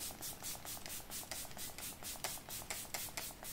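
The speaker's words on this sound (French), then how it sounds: "Donc le spray est super fin aussi." Makeup setting spray released as a fine mist in quick, repeated soft hissing spritzes with a steady rhythm, close and quiet, without any talking.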